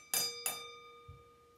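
A spoon taps a larger empty drinking glass twice, each strike giving a bright, clear ring that lingers and fades, followed by a faint third tap at the end.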